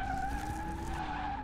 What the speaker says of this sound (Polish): Tak wygląda palenie kap.